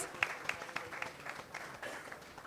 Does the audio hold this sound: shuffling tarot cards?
no